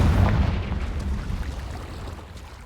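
A deep rumbling blast from the Confringo fire spell in Hogwarts Legacy booms loudly at the start and then slowly decays into a fading, crackling roar.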